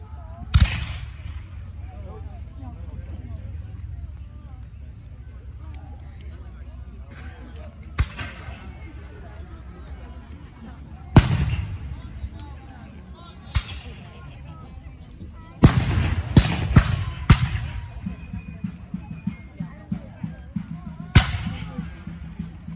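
Cannon fire from the Crown Forces side at a 2023 historical battle reenactment in Vincennes: several sharp, loud booms at irregular intervals, some close together, each with a rumbling tail, over open-field background and faint voices.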